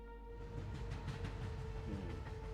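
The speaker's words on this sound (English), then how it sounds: "The Taeyang-go travels at only 60 kilometers per hour, sometimes even slower, due to the poor condition of railways in North Korea." Kim Jong Un's heavy armored train Taeyang-go rolling slowly along poor North Korean railways, a steady low rumble with a sustained tonal hum running throughout, loud and continuous with no voices.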